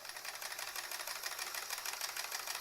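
Sewing machine stitching fabric, a quick, even mechanical whirring rattle running continuously and close by, without talk.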